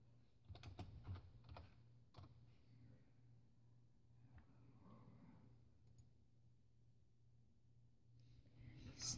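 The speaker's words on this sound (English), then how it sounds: "I'll be typing." A computer keyboard is typed on in scattered bursts of soft clicks, very quiet and close, with pauses between the runs and a steady low hum beneath.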